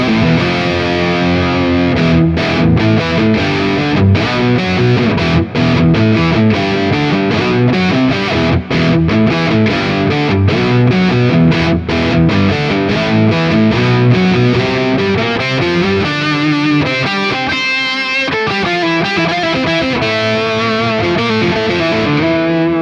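Distorted electric guitar lead tone with an octaver engaged on a Quad Cortex, a thick, loud, continuous stream of notes with added low end, playing alone with no talking.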